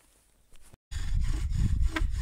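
A wooden bow drill spindle is bowed at an angle, the string riding up the drill, giving a steady rough rubbing and grinding of wood that starts after a brief gap and continues with a slight back-and-forth rhythm.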